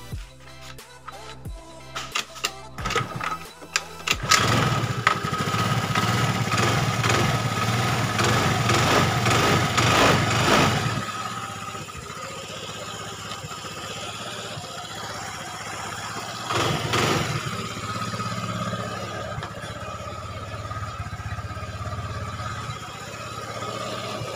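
A Honda Vario scooter with a flat battery, repaired through its wiring and CDI, turns over after several uneven attempts, then catches into a steady close idle. The engine note rises briefly once while it keeps running.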